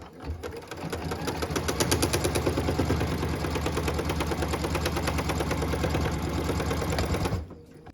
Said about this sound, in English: What we're stitching now is the tack down line for piece number 7.